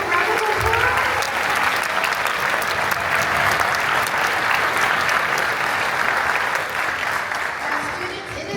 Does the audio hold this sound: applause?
yes